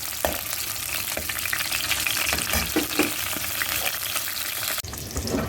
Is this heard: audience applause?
no